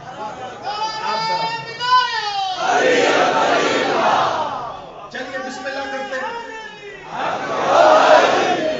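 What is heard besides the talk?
crowd chanting religious slogans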